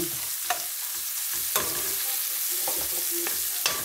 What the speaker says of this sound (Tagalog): ilagay natin ang hipon